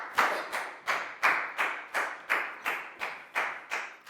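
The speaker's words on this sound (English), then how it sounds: "Big round of applause for Prel," A class applauding a pupil during a Year 4 English lesson, heard as about a dozen evenly spaced, close claps in a steady rhythm, like a group clapping in unison.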